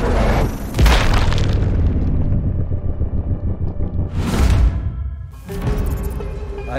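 Sniper rifle shots in Sniper Ghost Warrior Contracts 2, two loud booming blasts with long rumbling tails, the first near the start and the second a few seconds later, with game background rumble between them and no talk.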